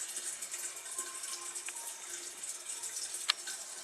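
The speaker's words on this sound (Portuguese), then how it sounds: "a lavadora está desligada da rede elétrica, mas ela não para de abastecer de água" A washing machine keeps taking in water while unplugged from the mains, a steady hissing flow of water into the drum, moderately quiet and continuous, with a brief click near the end.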